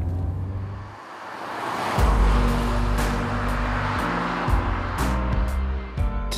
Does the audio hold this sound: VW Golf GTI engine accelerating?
yes